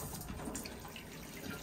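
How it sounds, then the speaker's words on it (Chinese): Water runs from a hotel bathroom tap in Japan in a continuous, quiet splashing stream, nearby and steady, with no one speaking. "就系水龙头出水"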